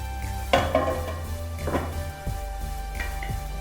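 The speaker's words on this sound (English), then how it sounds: "So just give this a stir." Baby mango pickle being stirred in a vessel, a few scattered clinks and scrapes of a spoon against the pot over a faint background, with no talk.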